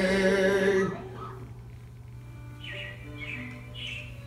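Several short robin chirps, moderately distant and faint, repeat at a steady interval after a brief burst of music at the start.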